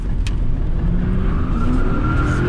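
Tesla Model 3 spinning its rear tires on the limit of grip, sliding sideways through cones: a steady, close rising whine and tire roar with a brief squeal, no talking.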